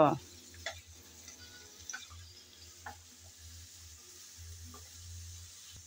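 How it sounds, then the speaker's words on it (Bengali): Chopped papaya stirred and frying in a pan, a faint low sizzle with a few sharp spatula taps against the metal and a low hum beneath. "পেঁপে আমি নেড়েচেড়ে সামান্য ভেজে নেব।"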